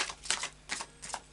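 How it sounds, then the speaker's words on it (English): Tarot deck being shuffled by hand, three quick soft bursts of riffling card clatter close to the microphone, fairly faint and with no talking. "I'll just do a final shuffle now"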